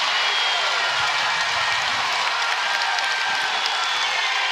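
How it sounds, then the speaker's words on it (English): A basketball arena crowd cheers in a dense, steady roar with scattered clapping, continuous and fairly loud throughout. "This crowd is just begging."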